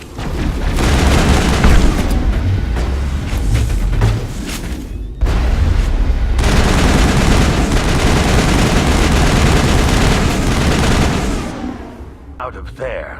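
Dense, sustained gunfire and booming blasts from a firefight against Geth in the video game Mass Effect, loud and nearly continuous, dropping away briefly mid-way and fading near the end, with voices mixed in.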